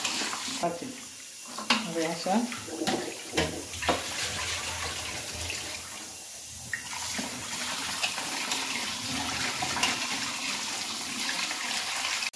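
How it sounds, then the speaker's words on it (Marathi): Goat trotters are rinsed clean under running tap water in a home kitchen. Water gushes and splashes unevenly, with someone talking briefly over the pouring stream. "हे पाय आहे ना हे नळ्या हे धुवून काढते। बघा असं स्वच्छ धुवायचा"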